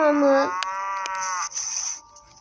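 A single long cow moo from a farm video game rings out loud and clear for about half a second, with a steady harmonic tail and a few clicky game sound effects following.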